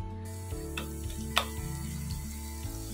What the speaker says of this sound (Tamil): சூடானதுக்கு அப்புறமா அரைச்சி வச்சிருக்கேன் இந்த மசாலாவை ஆட் பண்ணிக்கோங்க